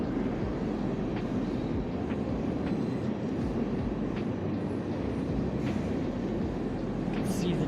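A long train rolls past in a continuous heavy rumble, a steady roar of wheels on rails with faint clicks scattered through it, lasting without a break from start to finish.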